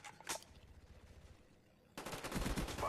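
Submachine gun fire in the shooter Call of Duty: Black Ops, a short burst at the start, a lull, then a sustained loud rapid volley closing it out.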